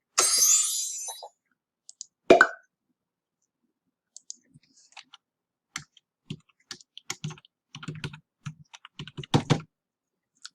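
Fingers type a password on a computer keyboard: sparse, irregular keystroke clicks, close and quiet, after an opening burst of rustling noise and one sharper knock.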